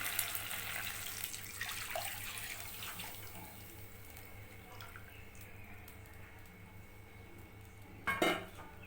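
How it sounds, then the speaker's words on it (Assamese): Milk is poured into a karahi that holds a little water, a soft, quiet trickle and splash that fades out, then a short metallic clatter of kitchenware near the end. "গাখীৰখিনি ঢালি দিম।"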